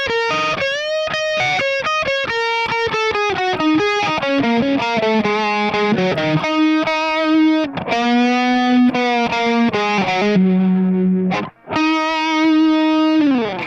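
Distorted electric guitar plays a solo as a fast run of sustained, bent notes with effects, loud and continuous apart from a brief gap near the end.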